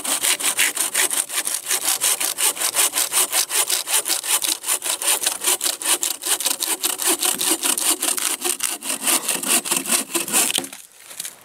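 A knife blade chops through wood in cold weather with rapid, rhythmic strokes, close and loud, steady for about ten seconds before stopping.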